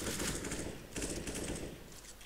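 Rapid automatic gunfire from the video game CS:GO, dense bursts of shots that stop briefly near one second and then resume, loud and close throughout with no talk.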